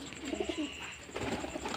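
Domestic pigeons and their young chicks coo softly at home, a few low, rounded coos in a steady cluster, fairly close and alone.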